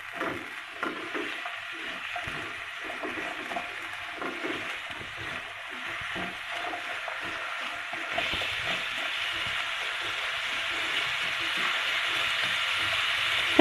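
Finely chopped potatoes fry in a covered pan, giving a soft, steady sizzle with faint irregular crackles that grows brighter and denser in the second half, close and moderate in level.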